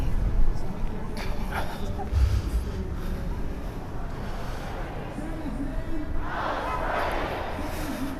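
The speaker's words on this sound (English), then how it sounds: "I'll give you guys a quick scene of the crowd" A protest crowd gathers at an ICE out of KC march in Oppenstein Park, Kansas City, Missouri, making a continuous outdoor murmur of many voices with occasional louder calls rising from the mass.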